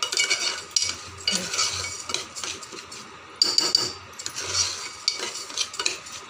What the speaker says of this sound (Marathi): फक्त आपल्याला ह्यात असं परतून घ्यायचं आहे 2 मिनटं